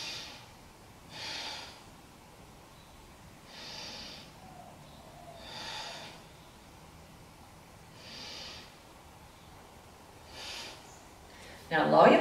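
Slow, deep yoga breaths during a beginner yoga session, audible as about six evenly spaced soft airy inhales and exhales, each lasting about a second, then a louder close rustle at the end.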